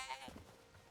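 A sheep in the Hytale video game lets out a brief, faint bleat, quiet and somewhat distant, amid low game ambience.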